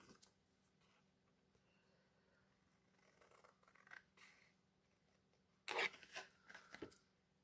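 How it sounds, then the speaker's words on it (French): Scissors cut paper along a fold line while making an exploding box, giving a few close, crisp snips in a short burst near the end after quiet handling sounds. "lorsqu'on va découper le long de la ligne de pli"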